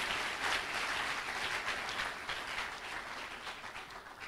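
Sustained audience applause at a university launch event, a dense wash of clapping that stays steady and fairly loud throughout without voices.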